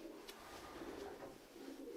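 Soft pigeon cooing fills a breeding loft housing only males, low murmuring coos that repeat and overlap at a quiet level, with faint rustling in the background.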